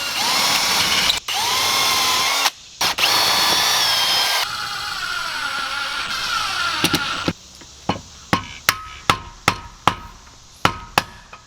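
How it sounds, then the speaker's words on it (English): Power drill pre-drilling through cedar for a cabin interior, a loud whirring bore with brief stops and restarts, then trailing off into a series of sharp rhythmic taps. "Pre-drill through this cedar so it doesn't crack on you."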